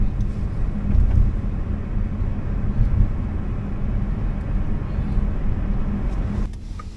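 A self-driving Chinese robotaxi rolls along a street and comes to a stop on its own, its steady low road and engine rumble fairly close, easing off toward the end with no voices.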